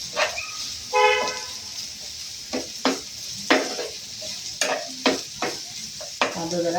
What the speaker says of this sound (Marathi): कांदा आता जरा चांगला भाजून घेते